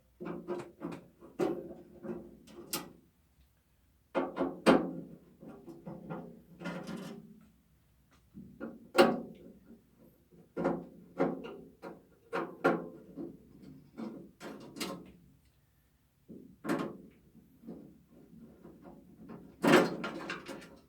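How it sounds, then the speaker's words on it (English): Working on an Opel GT door to take out six screws and lift off the window rail brings scattered close clunks, rattles and knocks separated by short quiet gaps. "So we'll take those 6 screws out."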